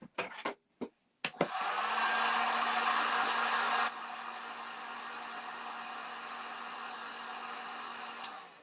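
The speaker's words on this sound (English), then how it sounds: "Dry that off a little bit. Side heat gun." A heat gun blowing steadily after a few sharp clicks, a loud continuous whoosh with a constant hum that drops to a lower setting midway and runs on until near the end.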